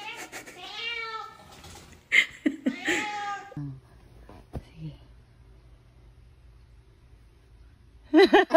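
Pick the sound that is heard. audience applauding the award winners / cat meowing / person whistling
cat meowing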